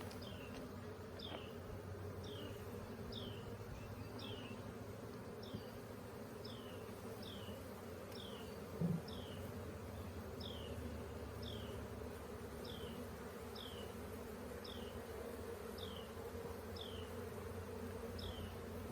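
Honey bees from a caught swarm hum in a continuous low buzz around an open hive during rehiving, steady and close throughout, with faint repeated chirps in the background and no talk.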